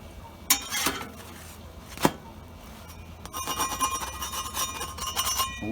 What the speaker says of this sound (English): Y'all hear that spatula scraping?